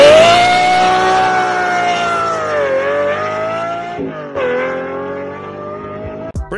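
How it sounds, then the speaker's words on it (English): A car engine revs loud and close, its sustained pitch sliding up and down with a short break near the end. "Tell me a better sounding car."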